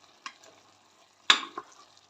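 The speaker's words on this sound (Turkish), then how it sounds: "böyle rengi dönene kadar ıspanaklarımın kavuracağım bilginize" Spinach sautéed in a pan for a chickpea and lentil dish gives a few soft stirring scrapes and brief sizzles, one louder clatter in the middle, faint and close with no voices.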